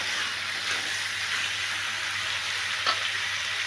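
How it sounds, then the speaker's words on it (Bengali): Potatoes fry in a pan with ginger, garlic and ground pepper while being stirred, giving a steady close sizzle with one soft scrape near the end. "আলু দিয়ে নাড়ছি এটাকে মশলার সাথে।"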